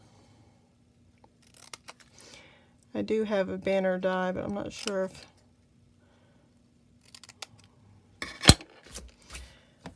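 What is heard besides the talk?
cutting paper with scissors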